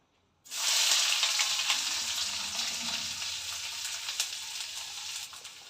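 Onion is tipped into hot oil already seasoned with turmeric and chili powder. After a brief silence, a sudden loud sizzle erupts and settles into a steady, close frying crackle that lasts to the end, with no one talking.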